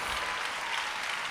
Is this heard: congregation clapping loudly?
yes